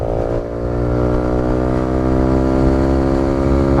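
A Kawasaki Z125 Pro revs up close and loud, its small engine holding a rising, steady buzzing drone with no talk over it.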